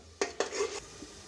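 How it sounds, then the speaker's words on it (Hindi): Masala spices being fried in oil in a pan for dhaba-style aloo gobi matar, heard as a few quick metal spatula scrapes and clinks against the pan over a faint background, with no speech. "अब इसको तब तक मसाला भून लेना है जब तक ऑयल अलग ना हो जाए"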